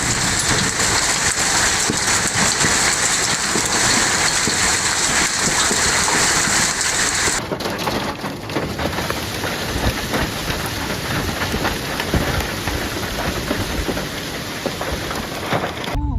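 Hail storm with heavy rain and thunder in Hachioji, Tokyo: a dense, steady roar of precipitation pounding surfaces, loud and continuous throughout with no talking.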